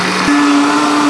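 A kitchen blender whirs loudly close by as it blends corn with corn starch, its motor stepping up to a higher steady pitch partway through and running on without pause.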